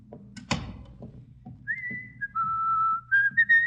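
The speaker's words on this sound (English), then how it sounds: "do you think you should whistle so loudly" Loud whistling outside an office rings out as a sustained tune, with long held notes and then short bright bursts, after a few thumps and footstep-like knocks.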